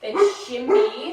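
A dog barks and whimpers twice in quick succession, close by in a room during a yoga session, while someone speaks over it.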